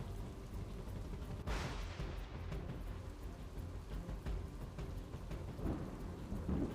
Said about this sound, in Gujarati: શહેર અને જિલ્લામાં વહેલી સવારથી જ ધોધમાર વરસાદની શરૂઆત થઈ છે